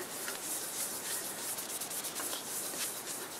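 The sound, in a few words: rubbing finish into black locust wood with soft cloth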